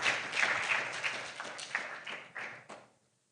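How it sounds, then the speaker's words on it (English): An audience at a National Reading Day event at the Kenya National Library Service claps for a professor, a dense burst of applause that thins into scattered claps and fades out after about three seconds. "Let us clap for the professor."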